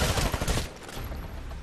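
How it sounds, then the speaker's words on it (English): Rapid automatic gunfire from a Titanfall match, a dense loud burst of shots in the first half that gives way to a quieter, busy game backdrop. "I'm wasting my freaking bullets here"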